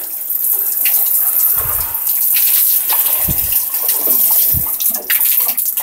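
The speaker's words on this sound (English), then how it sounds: "give things just a very," Water gushes from a hose or can onto plants in a greenhouse, a loud, steady spray and splatter with brief dull thuds and shifting flow.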